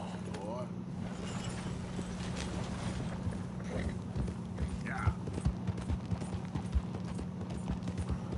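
Horse hooves clip-clop steadily through the open world of the video game Red Dead Redemption 2, the in-game footfalls running close and continuous beneath someone talking, with a low steady hum throughout.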